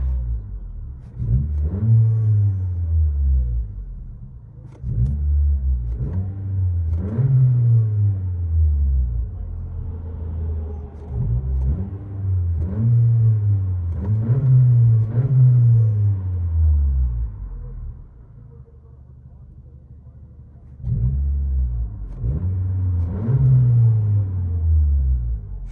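From inside a 2022 Honda Accord Sport Turbo with a muffler delete, the turbocharged engine revs repeatedly, rising and falling in pitch with a deep rumble, a steady cycle of surges over about twenty-five seconds.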